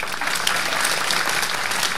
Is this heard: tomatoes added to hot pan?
no